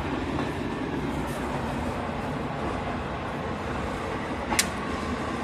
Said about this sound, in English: this bloody train seem to go past every sodding hour or half an hour,